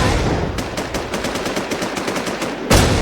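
Rapid automatic gunfire rattles off in a fast, even burst of shots, loud and continuous, ending in a sharper blast.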